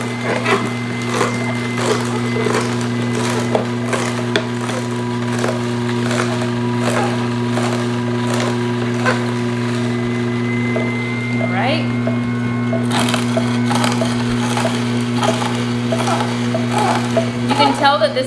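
A juicer, either an AMZchef or an Omega MM900HDS, crushes a celery stalk. A steady low motor hum runs throughout under scattered crackling and snapping, and someone talks over it.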